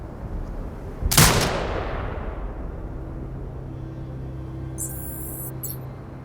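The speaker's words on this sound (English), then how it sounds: "command the turret to fire" A turret shot in the video game Sniper Ghost Warrior Contracts 2: one loud, close blast with a long rumbling decay, then a low steady hum and a brief faint mechanical tone.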